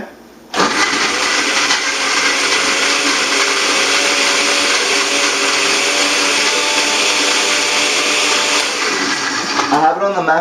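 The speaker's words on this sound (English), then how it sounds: "I like to use just a low blend to start with, but eventually you do want to puree." A blender runs on its maximum setting pureeing coconut pieces, starting abruptly with a loud, steady high-pitched whine that holds for about nine seconds before cutting off, with a voice beginning just at the end.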